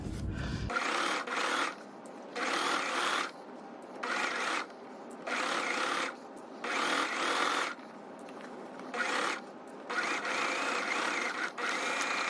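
A sewing machine runs in short repeated bursts, stopping and starting as it backstitches a tote bag strap. Loud close-up whirring alternates with brief pauses, and no one speaks.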